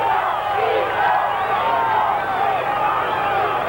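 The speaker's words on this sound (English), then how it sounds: "who races to the chants of his name." Roadside crowd at the 1986 Tour de France chanting Bernard Hinault's name as he climbs, a loud dense mass of overlapping voices rising and falling continuously, close and sustained.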